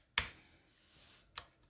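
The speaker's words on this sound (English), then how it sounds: "And we're just gonna type" Two sharp, isolated keystrokes on a computer keyboard, about a second apart, while load-line values are entered during Intel i7 10th Gen overclocking; the clicks are quiet and close, with near silence between them and no talk.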